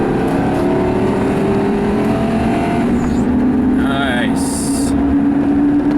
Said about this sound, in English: I'm gonna jump on the interstate here so I can give her a little throttle